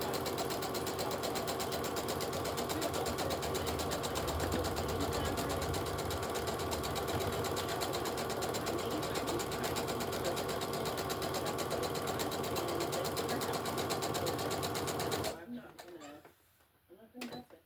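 Sewing machine stitching a fabric period bag, running steadily and loudly for about fifteen seconds with back-and-forth stitching, then stopping abruptly and leaving only faint handling noises at the end.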